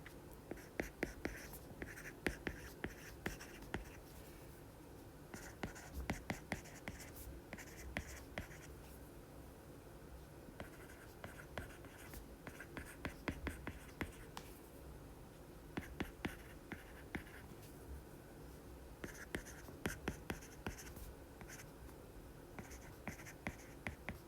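Pen or pencil writing an answer by hand on paper, a close, quiet run of scratchy strokes and small taps that continues steadily with brief pauses, no voices over it.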